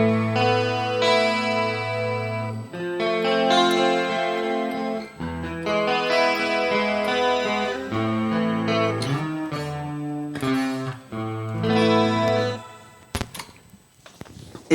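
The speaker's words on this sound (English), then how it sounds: "What I like to use from time to time is a shimmer reverb." Electric guitar with a split neck humbucker runs through a shimmer reverb on a multi-effects processor, sustained chords and notes blooming into bright, airy octave layers that wash together steadily and fade out near the end.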